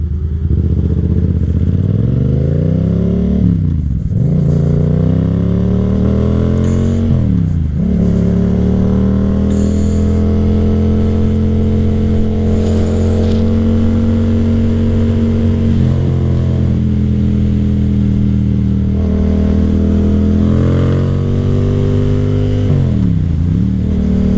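A Yamaha FZ07 motorcycle engine runs steadily while the bike is ridden on the road, holding a loud, even drone with a few brief throttle dips and rises as the revs change.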